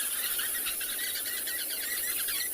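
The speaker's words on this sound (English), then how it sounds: "Demi, that chirping will stop very shortly, and then the other sounds of the Kalahari will start." Birds chirp across the Kalahari in South Africa on an afternoon safari, a dense, steady chorus of high tweets spread over the background with no voices.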